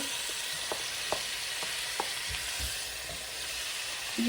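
Marinated beef and shrimp hit a hot pan and sizzle as a soft, even hiss, with scattered small pops and ticks throughout. No one speaks.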